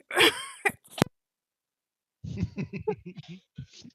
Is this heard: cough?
yes